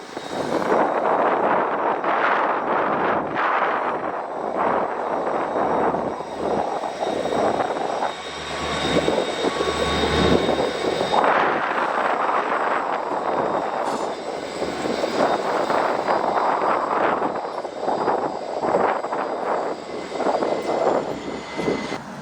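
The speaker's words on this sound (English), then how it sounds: "RCP&E's Rapid City to Huron train coming in on such a windy day" A loud, continuous diesel train engine roar builds and swells with heavy wind buffeting the microphone on a windy day in South Dakota, rising and falling over about twenty seconds.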